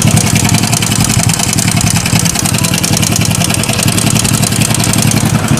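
A SYM Bonus motorcycle engine runs continuously after a spark plug fix, a loud, close, steady clattering rumble with no pauses or speech.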